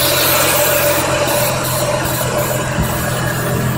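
A car engine idles steadily after start-up during a Seafoam treatment, a loud continuous low rumble heard close with no speech.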